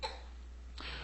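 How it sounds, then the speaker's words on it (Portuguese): A young child coughs faintly in the background of a church teaching on spiritual gifts, with one short cough at the start and another rougher burst near the end against a quiet room. "essa torcida que vocês estão ouvindo é a minha netinha que está tossindo aqui"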